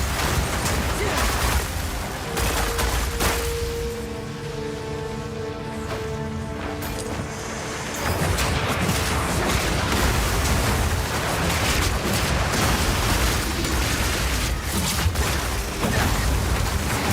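Barrage skill attack in Path of Exile 2, a dense, loud wash of rapid impacts and crashing bursts, with a tonal stretch in the middle before the barrage of hits resumes.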